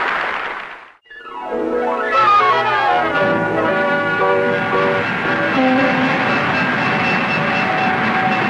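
A passenger train pulls into a station at night, its horn sounding loudly with rising harmonic blasts over the steady rumble and clatter of railcars, continuous and close throughout.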